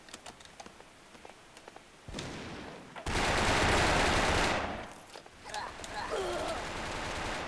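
Gunfire from the blocky online shooter Brick-Force: a loud sustained burst of shots fills the middle of the moment, with scattered sharper cracks before it and continued rattling fire afterward, mixed with game noise.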